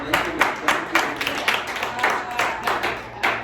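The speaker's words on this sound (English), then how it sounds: "give King a round of applause." A small group claps in an uneven, fairly quick rhythm of distinct hand claps at a wellness session for Black boys, sustained and moderately loud with faint room noise underneath.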